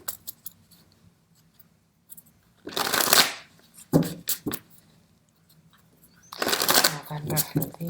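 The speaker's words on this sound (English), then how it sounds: "let me start by mixing these cards for you" Tarot cards are shuffled in two brisk riffling bursts, close and crisp. Short taps and card handling fall between the bursts in an otherwise quiet room.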